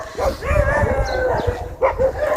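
A dog barks and howls a few times, fairly close, with short yelping calls between the louder barks.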